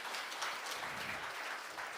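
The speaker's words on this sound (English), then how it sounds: "let's welcome him with a big round of applause" An audience at a talent show audition claps in soft, continuous applause, a diffuse wash of many hands heard from some distance without voices.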